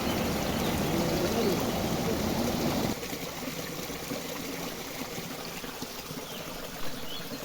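A river flowing beside a small waterfall in a picnic park in Rize, with a steady, close rushing of water that drops slightly in level partway through and continues alone.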